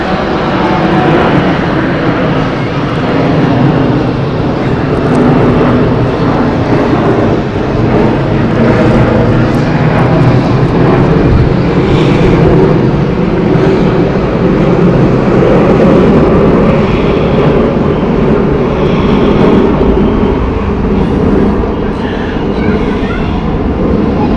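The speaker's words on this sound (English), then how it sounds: "A340, what a roar that was. That's an A340 that just came in earlier." An Airbus A340 jet climbing out after takeoff at Zurich Airport gives a loud, steady, broadband roar that fills the whole clip with no break, and faint voices come through underneath it.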